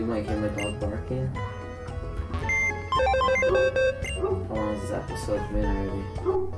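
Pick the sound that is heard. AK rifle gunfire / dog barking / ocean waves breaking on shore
dog barking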